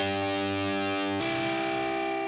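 A distorted electric guitar note bent from G up to E, a sustained, buzzing tone with a sudden pitch shift partway through, ringing on loud and alone.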